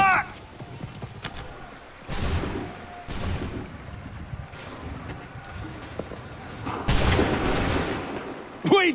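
Musket volleys crack out in the Assassin's Creed game, several loud booming bursts spaced a second or more apart, each fading into a rumbling tail over a background of battlefield noise.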